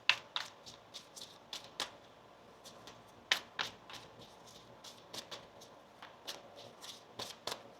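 Tarot cards are shuffled close by in soft, irregular riffles and slaps, with crisp snapping bursts scattered across a quiet background.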